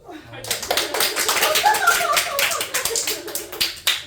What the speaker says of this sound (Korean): 빨리 다들 박수 쳐 박수